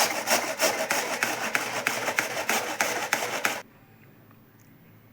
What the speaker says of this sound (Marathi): आता छान खिसणीने घेऊयात खिसून।